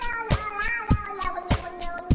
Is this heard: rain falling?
no